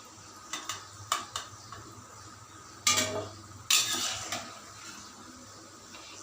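Golden-brown fried balushahi are lifted from the oil onto a plate, giving several sharp clinks and scrapes of utensil against dish, spaced irregularly over a faint background sizzle.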